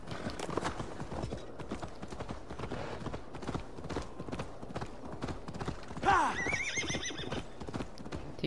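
Horse hooves clop in a steady, quick rhythm in Assassin's Creed Valhalla, and partway through the horse lets out a loud, high whinny.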